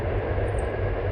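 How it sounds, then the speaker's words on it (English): A loud passing train near a Japanese wasteland, a steady dense rumbling roar that holds constant and close throughout with no voices. "Wow, that train's really loud."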